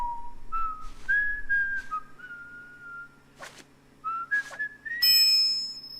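A man whistles a melodic theme from the Sonic Unleashed video game, sliding between sustained notes in short phrases, close and clear, with a few sharp swishes between phrases and no speech.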